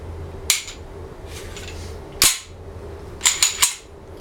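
Sharp metallic clacks from a Springfield .45 ACP pistol as the slide is worked and released forward, one at about half a second, another near two seconds, then a quick cluster of three, close and loud with quiet gaps between.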